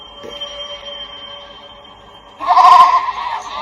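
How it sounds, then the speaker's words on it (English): Goats bleat in an abandoned place, a loud wavering cry rising over a quiet background hum near the end. "Billy goats?"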